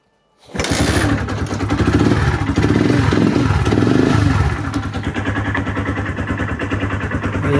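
A Honda Sniper 150 motorcycle engine cranks and catches, then settles into a close, loud, steady running putter with a slight clattery edge. No voices can be heard over it.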